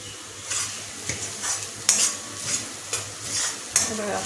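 Masala frying in oil inside a pan of Kolhapuri chicken rassa, with a spoon stirring it in steady strokes about every half second over a continuous close sizzle, plus light scrapes against the pan.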